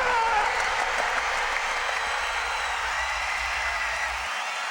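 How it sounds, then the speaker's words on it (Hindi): Dense crowd applause at a wrestling bout, a steady wash of many hands clapping that holds evenly throughout. "अरे तालियां!"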